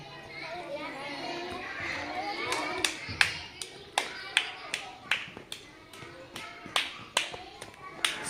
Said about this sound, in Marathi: टाळी जोरात पडली पाहिजे